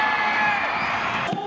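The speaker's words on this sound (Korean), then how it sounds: "마스코트 호거리가 쉴 새 없이 북을 치고 큰 음악 소리와 함성이 울려 퍼졌지만" Stadium crowd at a baseball park cheering and shouting loudly at the Kia Champions Field during an archery match, a dense continuous roar of voices; drumming is not distinct.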